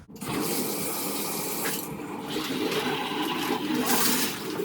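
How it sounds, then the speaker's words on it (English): Shower water running in a home bathroom, a steady rushing hiss of spray that continues without pause, close and fairly loud, with no talking. "All right, finally going to go take a shower."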